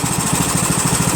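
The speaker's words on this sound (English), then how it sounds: "Engine still doesn't run very good." A Yard Machines 1742 lawn tractor engine runs rough close by, a steady rapid knocking chug that repeats evenly throughout with no pauses.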